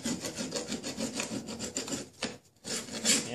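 A hand tool scrapes across a metal surface being prepared for paint, knocking off big chunks in steady rough strokes, close and moderately loud, with a short pause before the scraping resumes.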